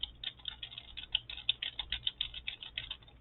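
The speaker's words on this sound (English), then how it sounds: "I'm going to type a real long word here" Someone types a long word on a computer keyboard, a quick, close run of light clicking keystrokes at an even pace with no speech.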